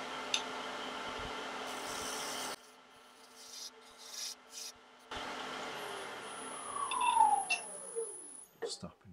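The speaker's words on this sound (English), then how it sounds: "I'll just give it a little tiny scrape." A freshly sharpened skew chisel scrapes lightly against a pen blank spinning on a wood lathe, a soft rasping rub that stops briefly and resumes as the lathe tone rises and falls.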